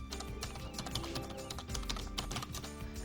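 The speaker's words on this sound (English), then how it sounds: "So I'll type in my username" Rapid keystrokes patter on a computer keyboard as a username is entered, a dense, quiet run of clicks close by.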